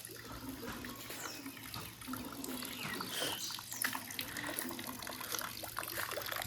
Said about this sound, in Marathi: आता रात्री पाऊस झालेला, अजून पाणी वाहत आहे याच्यावरून.